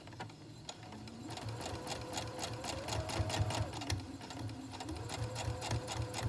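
A sewing machine stitches a fabric face mask, a close, continuous rapid rattle of the needle with a steady motor hum running throughout.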